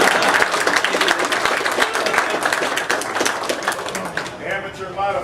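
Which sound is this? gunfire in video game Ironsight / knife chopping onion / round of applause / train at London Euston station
round of applause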